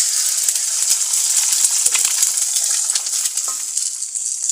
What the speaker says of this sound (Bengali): ভাজা পেঁয়াজের মধ্যে আমি এখন ভেঙে রাখা একটি ডিম দিয়ে দেব